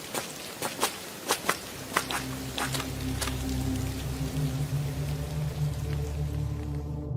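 Light rain falling at night, a steady soft patter that grows denser after a few sharp, irregular taps at the start, heard alone without talk.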